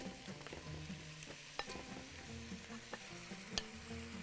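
Meat going into a pot of frying onions for a Bahraini lamb curry (saloonat laham), with a steady close sizzle, stirring scrapes and a few sharp clinks of utensil on the pot.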